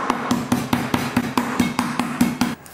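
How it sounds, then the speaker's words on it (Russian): A meat tenderizer hammer pounds chicken breast in a home kitchen, about a dozen sharp, evenly spaced thuds in a steady rhythm, close and fairly loud, with no talking. "И берем такой обычный молоточек отбивной. И куриную грудинку отбиваем."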